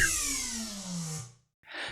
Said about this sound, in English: she shoots bursts of hit scan shots from her right hand.